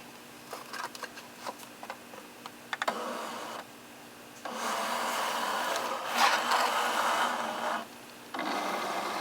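A Cricut cutting machine working on an aluminum sign: rapid clicky ticking at first, then long stretches of steady motorized whirring and grinding that stop and restart, close and moderately loud, with no voices.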